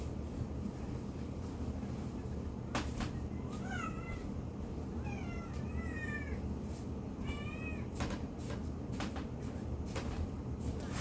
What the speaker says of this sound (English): She is mad because she wants the door open